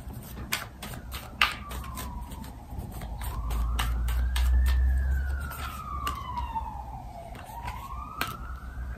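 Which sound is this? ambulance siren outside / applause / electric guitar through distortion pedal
ambulance siren outside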